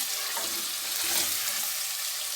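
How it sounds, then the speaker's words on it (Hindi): Half a kilo of potatoes frying in a masala, a dense, even sizzle close by with a faint wet bubbling texture throughout and no one speaking. "इनको 2 से 3 मिनट अच्छी तरह भूनना है"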